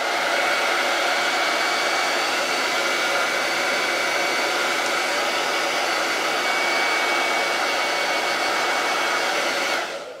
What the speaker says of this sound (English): if you're going to dry this, using your hairdryer on the hot setting